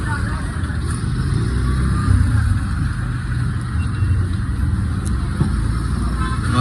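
Road traffic stuck in a jam near Dhaka gives off a steady, close engine rumble and idling hum, with someone talking over it.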